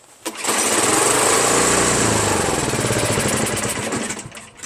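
A Craftsman 5.5HP OHV snow blower engine with a dirty carburetor running on choke, a loud buzzing drone that starts abruptly and then sputters out, close by and with no talk.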